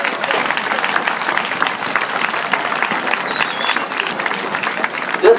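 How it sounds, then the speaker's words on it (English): Sustained applause from an audience honoring a Hall of Fame high school boys track team, dense steady clapping at moderate loudness with no speech over it. "Let's give them a round of applause."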